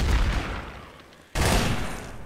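Rapid in-game gunfire from Gmod Trouble in Terrorist Town, a dense burst of shots that fades briefly and then erupts again in a second loud volley.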